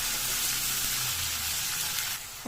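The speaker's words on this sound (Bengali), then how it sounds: "ওই তেলের মধ্যেই দিয়ে দিলাম পেঁয়াজ লঙ্কা টমেটো এগুলো একটু লাল লাল করে একটু ভেজে নেবো" Onion, chilli and tomato fry in hot oil, giving a loud, continuous sizzle that fills the short stretch without any talking.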